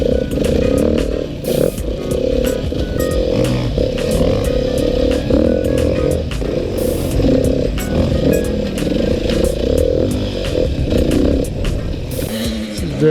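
A Beta long-stroke dirt bike engine runs loud and steady through continuous riding, its rough throttle note holding with occasional revs and clatter.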